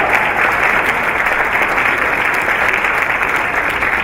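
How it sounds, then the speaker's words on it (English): Steady, dense audience applause at a school district State of the District address fills the whole stretch, loud and continuous with no pauses and no speech over it. "Let's give them a round of applause."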